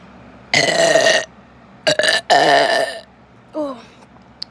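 Long, loud burps after a drink of Dr Pepper, two drawn-out belches with a brief break between them, then a shorter, quieter croak near the end, all close and with no talk over them.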